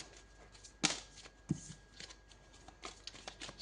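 Oracle cards being shuffled by hand, a quiet, close riffling with a couple of sharper snaps between soft rustles.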